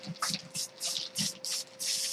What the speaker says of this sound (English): Let's spray this over top. Maybe it'll help slide it.